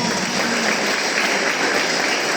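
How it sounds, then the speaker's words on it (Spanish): Loud, dense applause from guests at a quinceañera celebration in Ameyaltepec, Guerrero, a constant wash of many hands clapping close by without pause. "Aplauso para la dama,"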